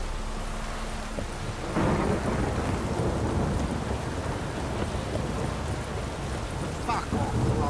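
Heavy rain and rolling thunder in The Witcher 3 video game, a constant loud downpour hiss with deep thunder rumbles building and swelling midway, and a faint voice briefly audible under the storm.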